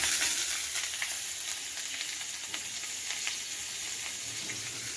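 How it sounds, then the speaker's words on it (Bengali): Black cumin, dried chili and chopped onion fry in hot oil, giving a continuous bright sizzle and crackle at a fairly even level, with faint stirring sounds and no voices. "হালকা কালো জিরে আর শুকনো লঙ্কা ফোড়ন আর অল্প একটু পেঁয়াজ কুচি"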